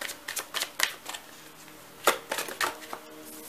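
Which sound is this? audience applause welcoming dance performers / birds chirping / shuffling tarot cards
shuffling tarot cards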